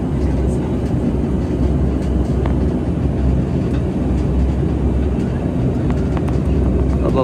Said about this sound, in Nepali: धावन मार्गमा उडिरहेको छ।